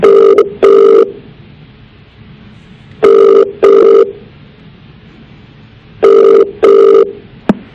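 A telephone rings in three loud double bursts, evenly spaced, with quiet pauses between them.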